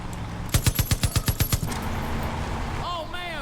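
Gunfire from a vehicle in Far Cry 5: a rapid burst of about ten sharp, loud shots in an even rhythm, followed by a rumbling engine bed and a few whistling tones near the end.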